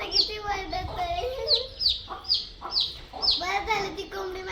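Country chicks cheep and a hen clucks close by, repeated high chirps and lower clucks sounding together in a short busy run.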